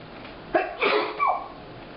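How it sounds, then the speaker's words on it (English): A single close sneeze, with a sharp intake of breath followed by a loud burst and a trailing exhale, in an otherwise quiet room. "I'm fixing to sneeze"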